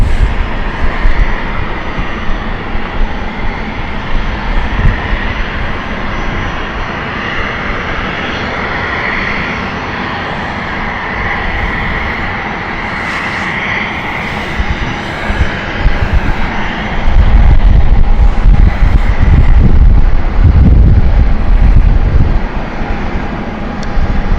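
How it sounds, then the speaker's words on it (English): A Dassault Falcon 7X business jet rumbles steadily in a broad engine roar, growing louder and heavier near the end as it passes close by at an airport. "The Falcon 7X. I said it sounded like a Falcon."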